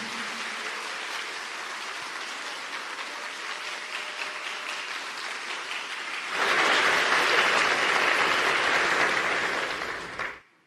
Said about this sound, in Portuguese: Aplauda o teu Deus